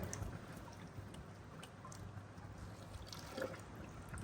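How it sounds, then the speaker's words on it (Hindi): Water poured repeatedly over almond and cardamom residue while straining sharbat, a soft continuous trickle and splash under steady low noise with no talking. "इसको इस तरीके से आपने बार बार पानी डालना है।"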